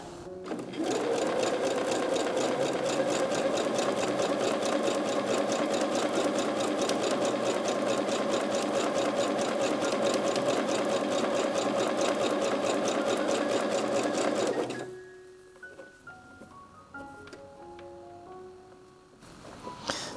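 Home sewing machine stitching stretched elastic onto fabric for basic panties: a steady, fast, close mechanical whir running continuously for about fifteen seconds, then stopping, leaving faint handling sounds.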